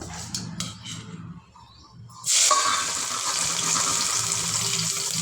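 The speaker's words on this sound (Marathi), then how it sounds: "आता त्यात कांदा घालून घेऊ" Chopped onion drops into hot oil tempered with cumin for a bitter gourd curry, setting off a sudden loud sizzle that persists steadily after a few quiet stirring taps.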